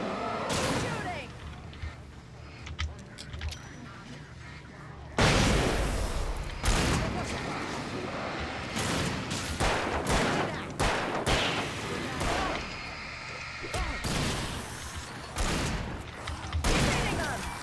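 Bursts of gunfire from the Alan Wake video game, loud repeated shots and booms coming in dense clusters over game sounds, with someone talking.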